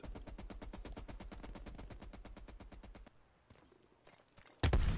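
A MAC-10 submachine gun fires in Call of Duty: Black Ops Cold War as a fast, even burst of about thirty rapid shots lasting three seconds, then faint clatter and a sudden loud blast at the end.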